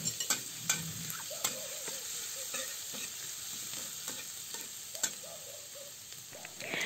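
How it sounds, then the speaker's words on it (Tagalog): Sliced garlic frying in hot oil, a close steady sizzle broken by sharp ticks and clacks of a utensil stirring against the pan at irregular intervals, no voices. "kapag mainit na ang mantika, ilagay na natin ang hiniwang bawang. Ayan, lutuin lang natin ang bawang"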